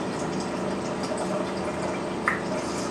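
Water pours steadily with a continuous gurgling, splashing fill that holds at an even level for a few seconds, close by with no talking.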